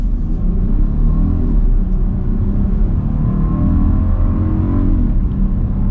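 A 2021 Volkswagen Atlas Cross Sport SEL Premium accelerates hard, heard from inside the cabin as a loud, steady engine rumble and whir with rising tones and no talking.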